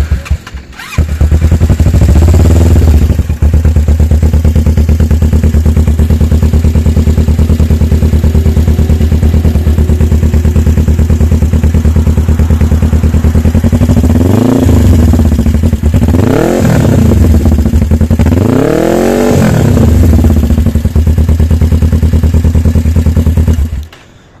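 A Suzuki GS500 motorcycle engine starts and idles loud and close with a steady throb, then is revved in three rising-and-falling blips before cutting off.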